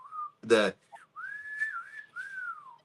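A person whistles a TV show theme tune alone, clear sustained melodic notes rising and gliding, with a brief burst of noise partway through.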